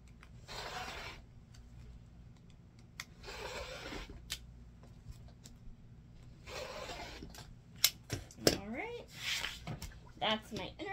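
A rotary cutter slices 2.5-inch fabric strips along a quilting ruler in short bursts of crisp rolling cuts, separated by pauses, with someone speaking between cuts and small clicks of handling.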